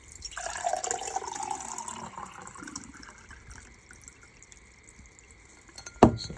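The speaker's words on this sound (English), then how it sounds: "So pour the water." Slushy thawed ice water pours out of an insulated bottle into a cup, a gurgling, splashing stream that fades over a few seconds, ending with a sharp knock near the end.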